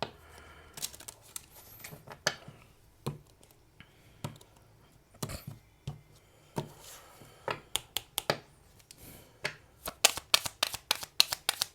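Oracle cards being shuffled by hand in crisp, irregular bursts of flicking and riffling that speed up into a rapid run near the end, close and clear with no talking.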